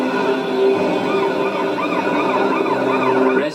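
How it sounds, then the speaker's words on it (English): An ambulance siren wailing in rising and falling sweeps over a low vehicle rumble as the ambulance arrives and comes to a halt, steady and fairly close throughout. "the ambulance comes to a halt"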